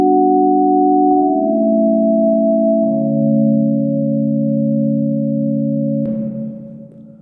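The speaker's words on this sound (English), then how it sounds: "Then we got this basic sound pad from Purdy" Basic synth pad from the Purdy pack in FL Studio plays smooth sustained chords, with a few soft chord changes and a gentle fade at the end, loud and clean with no other sound.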